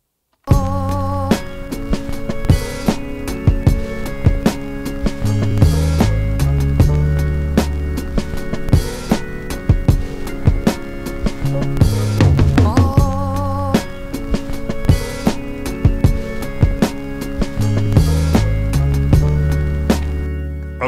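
A hip hop beat programmed on a Polyend Tracker plays alone, with punchy kicks, snappy percussion and melodic and bass layers looping in a steady groove, loud and continuous.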